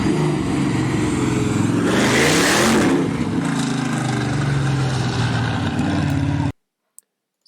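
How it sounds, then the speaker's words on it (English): A muscle car's big engine, larger than a four-cylinder, rumbles loud and close, swelling into a rev around the middle before settling back to a deep idle, then cutting off abruptly near the end. "just to hear that engine rumble something that's bigger than a 4-cylinder for once in a while"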